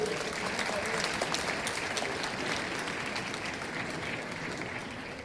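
Loud, sustained applause from a convocation audience at Government College Gurdaspur, steady clapping that fades slightly toward the end, with no voices over it.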